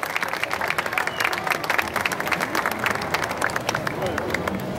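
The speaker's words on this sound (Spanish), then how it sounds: "Un aplauso, por favor" Audience at a Parachicos recognition ceremony applauds steadily for several seconds, a dense wash of clapping with crowd murmur and cheering underneath.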